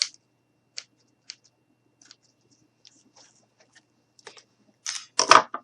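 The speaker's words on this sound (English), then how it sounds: "I'm just going to go ahead and take my scissors and just trim it up a bit." Scissors snip at wreath mesh in a quiet room, with a few faint scattered clicks followed by a louder cluster of sharp cuts near the end.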